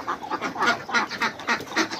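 Wet, rain-soaked ducks in a muddy pen quack in a quick series of about seven nasal calls, close and fairly loud, with no talking over them.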